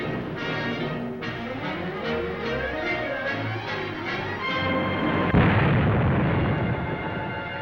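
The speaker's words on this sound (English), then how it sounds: "drove right into that blast" A road blast explodes in a radio drama. A sudden deep roaring boom breaks in late and rumbles on to the end, following a stretch of tonal background music.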